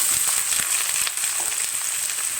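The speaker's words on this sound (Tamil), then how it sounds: "வெங்காயம் நல்லா வதங்கட்டும்" Steady, dense sizzling of onions frying in a hot iron pan, a continuous crackle with no talking.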